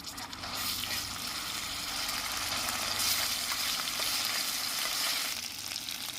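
Ginger-garlic paste and whole garam masala spices frying in a mix of ghee and white oil for chicken chaap, producing a close, steady sizzle and hiss that swells slightly midway, with no one speaking.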